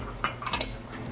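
Chopped tomatoes, fine thyme and sliced onions stirred in a pot over a fireside, a few quick metallic clinks and scrapes of a spoon against the pot, close and fairly soft.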